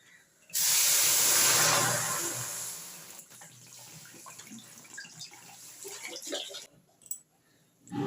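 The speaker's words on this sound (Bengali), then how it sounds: "কড়াতে আমি জল দিয়ে দিচ্ছি" Water poured into a kadai on the stove while cooking vegetable khichuri, a loud steady rush and splash for about two seconds that then eases into quieter trickling and clinks.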